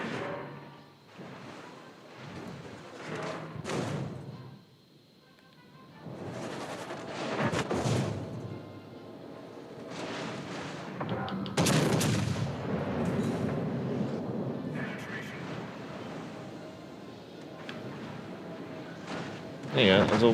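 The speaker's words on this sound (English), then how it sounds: "There you go, there's all 15 torpedoes." A naval video game battle plays out with booming gunfire and the launch of a torpedo salvo, heavy blasts and splashes recurring in clusters while someone talks over much of it.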